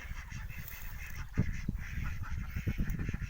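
Ducks at a farm fish-and-duck pond give a run of nasal honking quacks, several calls in quick succession, moderately near over a low outdoor background.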